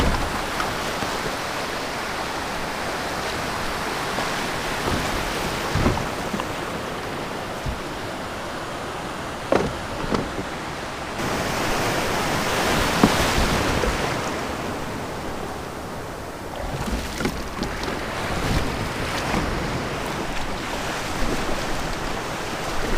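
Ocean surf crashes and washes around while a kayak heads out through early fall water, a loud, continuous roar of breaking waves with scattered splashes and wind buffeting over about twenty seconds, with no voices.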